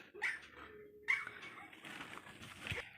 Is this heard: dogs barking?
yes